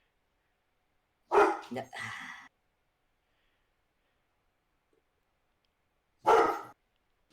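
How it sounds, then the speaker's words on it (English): A dog barks close and loud in two separated bursts, a cluster of quick barks followed by a single later bark, with near silence between them. "Don't you start barking?"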